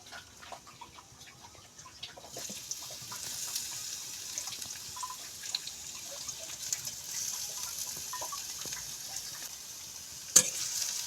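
Onions frying in hot oil as they are stirred, a soft steady sizzle with light scraping ticks and one sharp clack near the end, no talking.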